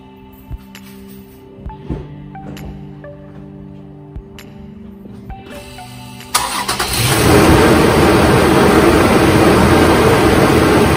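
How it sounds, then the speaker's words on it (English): A car engine with 102,000 miles starts after maintenance: a few quiet clicks and taps, then it catches with a loud burst and settles into a steady, full idle that runs to the end. "That sounds like a happy engine to me."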